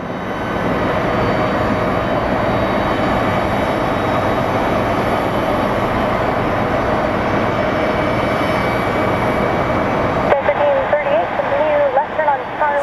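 A Southwest airliner in Illinois One livery comes in to land at Phoenix Sky Harbor, a steady broad roar of engine and airflow that holds throughout, with a voice briefly audible near the end.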